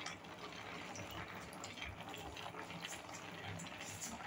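Water is poured into a pan of ground cumin, mustard and poppy seed paste while cooking, a steady close splashing gush that runs throughout.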